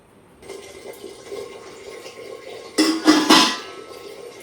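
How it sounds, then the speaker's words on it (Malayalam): Tap water runs into a cooking pot, a steady faint stream that swells louder and splashier near the end as the pot fills, with no talk. "അപ്പോൾ ഇന്നത്തേക്ക് തിളപ്പിക്കാനുള്ള വെള്ളമാണ് ഞാൻ ആ കലത്തിൽ പിടിക്കുന്നത്"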